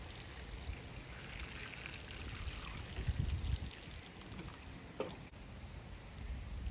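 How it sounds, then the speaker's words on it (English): Water pours and trickles into soil mix being soaked for soil blocks, a soft continuous stream with gentle gurgling and a faint squish, close and quiet. "So I'm about to literally soak this soil"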